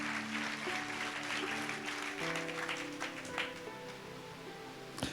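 A congregation at a Sunday church service claps together, a steady wash of applause lasting several seconds with a faint sustained tone beneath it, moderately distant.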